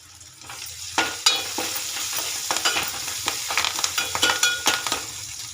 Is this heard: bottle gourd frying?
yes